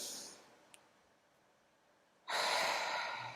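Breath pushed out through the mouth comes as a soft exhale: a faint airy stretch at the start, a quiet pause, then a louder, fuller rush of breath near the end.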